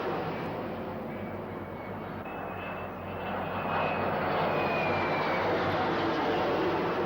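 Sea Harrier jet aircraft of the 1982 Falklands task force fly overhead in a strike formation, a steady loud roar that swells over several seconds with no speech.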